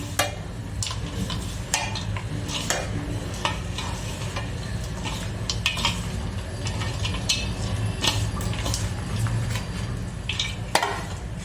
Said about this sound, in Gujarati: હવે હાથથી જ મિક્સ કરવાનું છે આપણે.